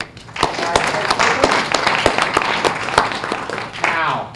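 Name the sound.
applause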